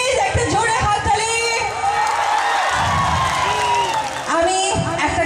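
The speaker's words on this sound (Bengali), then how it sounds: "প্লিজ একটা জোরে হাততালি।" The audience at Apu Biswas's live stage show in Barpeta cheers, whoops and shouts loudly and continuously, with many voices layered over one another.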